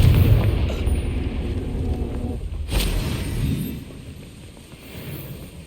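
A Confringo spell blast in Hogwarts Legacy on PS4 lands as a heavy, rumbling explosion. A low roar is loud at first, a crisp crack sounds midway, and then the rumble fades to a softer tail.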